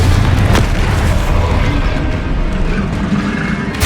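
A Confringo spell explodes in the video game Hogwarts Legacy, giving a loud, deep booming blast that rumbles on for several seconds with no one speaking.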